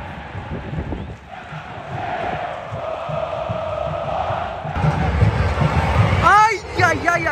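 Fans at a stadium during the Copinha youth football final with Palmeiras, a broad roaring crowd swelling louder toward the end, with people talking close by over it.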